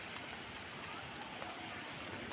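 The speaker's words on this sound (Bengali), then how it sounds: "আমি যে বৃষ্টিতে ভিজতেছি" Light drizzle falling around someone walking outdoors on a cold, windy night, a steady soft hiss of fine rain with no distinct drops, continuous and fairly faint throughout.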